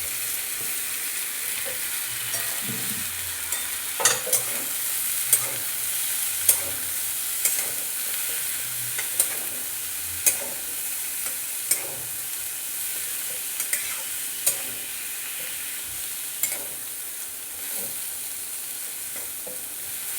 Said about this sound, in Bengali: একটু ভাজা ভাজা হবে